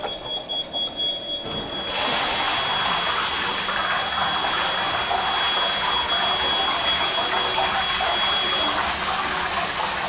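Water suddenly gushes through a sprinkler system deluge valve in a double interlock preaction system, a loud steady rushing roar with a faint high whine that starts after a quieter lead-in and continues to the end.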